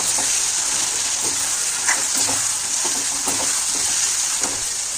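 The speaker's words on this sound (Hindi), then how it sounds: "तो दाल को फ्राई करते हैं" Dal sizzles and fries in a pan at home, a loud, continuous hiss with occasional stirring scrapes and small crackles, close up and with no talk.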